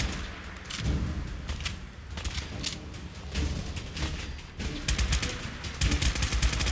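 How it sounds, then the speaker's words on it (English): Fallout 4 combat with laser rifle fire, sharp repeated zaps and shots in irregular bursts, fairly close, over a low ongoing battle rumble. "His laser rifle is packing a punch."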